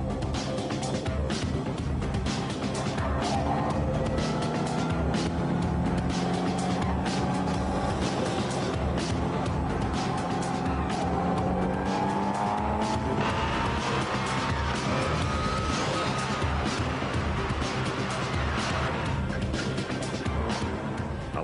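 Race cars roaring around a track in a 2006 motorsport event, engines loud and sustained with a car skidding through a turn, dense continuous noise with faint commentary underneath.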